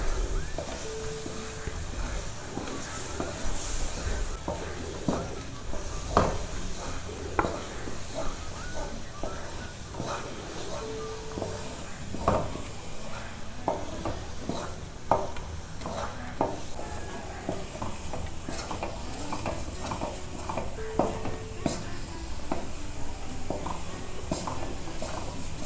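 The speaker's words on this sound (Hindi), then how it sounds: "ये चम्मच आपने इसमें मुसलसल चलाना है।" A spoon stirs besan and coconut halwa in a pan: continuous soft sizzling and hissing, broken by frequent scraping clicks and taps of the spoon on the pan.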